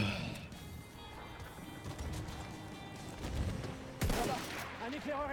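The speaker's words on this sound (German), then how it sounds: "genau, in dem Moment fliegt eine Bombe auf mich an." A bomb explodes in Battlefield 1 amid ongoing battlefield gunfire, with a sharp loud broadband blast about two-thirds of the way through over a steady din of combat noise.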